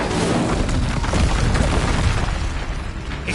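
Incendio fire spell cast in Hogwarts Legacy, a dense roaring burst of fiery noise that holds steady and loud for about three seconds, with no voices over it.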